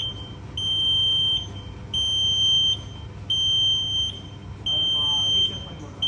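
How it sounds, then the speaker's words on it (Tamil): A bakery rotary oven's alarm in a Coimbatore workshop sounds four repeated electronic beep bursts, each lasting about a second with short pauses between, over a low background hum. "ஒரு நிமிஷம் வச்சேன், அலாரம் ஆகிடுச்சு."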